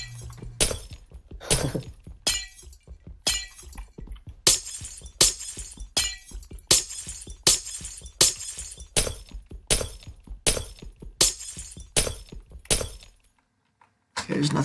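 Glass blocks being broken while digging in Minecraft, a steady rhythmic run of a dozen or more sharp, close shattering crashes, with a brief pause near the end.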